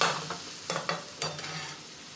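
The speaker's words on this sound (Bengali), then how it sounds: "নাড়াচাড়া করে ভেজে নিতে হবে। আলুর সঙ্গে আদা রসুনটাও ভাজা হয়ে যাবে।" Potatoes being stirred and fried with ginger and garlic in a pan for a cluster bean and potato curry, a soft steady sizzle broken by a few sharp scraping stirs, close and alone.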